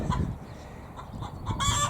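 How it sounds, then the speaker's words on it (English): A hen on a garden allotment clucks after laying an egg, giving several close, loud, uneven squawks that rise into a sharper burst at the end. "Oh yes, the chicken's just laid an egg."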